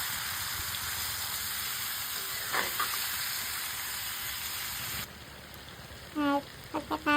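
Chicken and garlic sautéing in a pan for chicken curry, a steady close hiss and sizzle that drops in level partway through, followed by a few quick clatters of stirring near the end.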